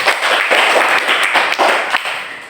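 Children in a classroom clap together for two groups, a steady, dense patter of hands lasting the whole moment, close and fairly loud.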